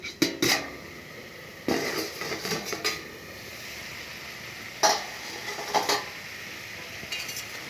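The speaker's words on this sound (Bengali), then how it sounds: "আমি এখন থালাটা তুলে নিচ্ছি।" A metal plate is lifted and handled in a home kitchen while vegetables cook, giving several sharp clanks and scrapes in irregular bursts, close up, with quiet gaps between and a faint background hum.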